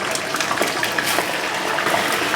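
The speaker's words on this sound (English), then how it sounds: "Put the rest of our chicken wings in." Chicken wings for hot wings go into hot frying oil, setting off a loud, steady sizzle and crackle with small pops throughout, and no voices.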